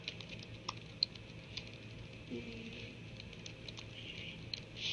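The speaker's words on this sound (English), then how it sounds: "hold on, I'm typing" Soft, quick typing on a computer keyboard, a steady patter of light key taps through the whole stretch with a few sharper clicks, fairly faint against a low background hum and no talk.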